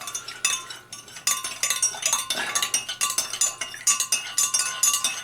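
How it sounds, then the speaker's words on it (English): A spoon clinks rhythmically against a container while sugar syrup for limoncello is stirred, a quick run of bright metallic taps repeating close by with short pauses between bursts. "I'm going to make that up and give it a stir"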